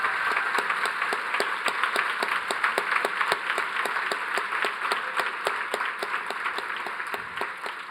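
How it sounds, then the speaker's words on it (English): Audience applause fills a conference hall for the full stretch, dense steady clapping from many hands at an even loudness with no voices over it. "So please give all of these folks a big round of applause."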